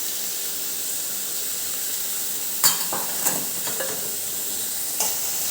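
Soaked moong dal sizzles close up in a pan with turmeric, red chilli and coriander-cumin powder. A steady hiss runs throughout, and a few sharp stirring clatters and pops come near the end. No one speaks.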